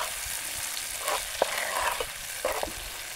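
Onion frying in a pan: a constant soft sizzle with a few stirring scrapes and clinks of a spoon against the pan, close and fairly quiet.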